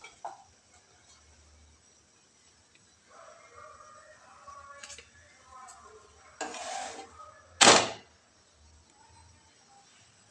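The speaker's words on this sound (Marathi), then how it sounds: "आणि छान आपल्याला दोन्ही साईडने पराठा जो आहे आपल्याला छान म्हणजे खरपूस असा भाजून घ्यायचा आहे" An aloo matar paratha roasts on a hot tawa, with a soft, quiet sizzle broken by a few sharp bursts as it is pressed or flipped, plus faint scraping.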